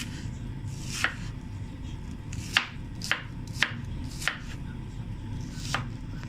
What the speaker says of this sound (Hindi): पहले हम प्याज कट करके डाल लें।